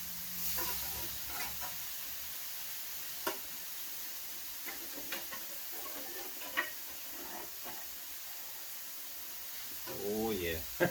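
Meat for a Philly cheese steak sizzles steadily on a griddle, a soft continuous hiss with occasional taps and scrapes of a spatula, while a voice speaks faintly near the end.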